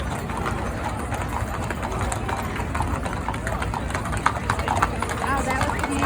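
Mule hooves clip-clopping in a steady trot during a Mule Day parade in Tennessee, with an engine idling nearby and people chatting close over the hoofbeats throughout.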